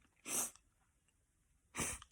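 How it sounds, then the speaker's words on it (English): Two sneezes, well apart, each a short loud burst close by, with near silence between them. "I feel like I gotta sneeze"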